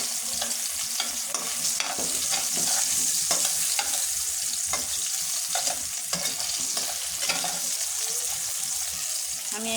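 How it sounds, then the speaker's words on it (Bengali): Potato pieces sizzle in oil while they crisp up, a continuous close frying hiss broken by repeated stirring scrapes, with a faint watery trickle running in the background and no talk. "মচমচে করে ভেজে নিলাম"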